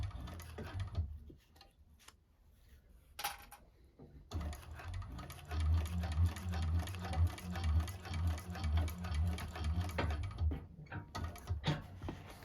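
A 1341 cylinder arm sewing machine stitches a bag in steady runs of rapid, close mechanical ticking and whirring, briefly paused for a few clicks before starting up again, with no talking.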